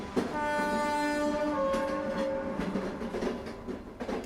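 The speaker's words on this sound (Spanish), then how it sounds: "Elena, nuestra locomotora titular, da varios bocinazos y sale suavemente de la gran estación" Locomotive horn blasting as a train pulls out of a large station under renovation, a long loud sustained blare followed by a second overlapping tone, fading into rumbling rail noise and clatter.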